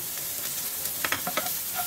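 Garlic and ginger browning in a hot pan for chicken feet adobo, a bright steady sizzle with a few close stirring scrapes and clinks.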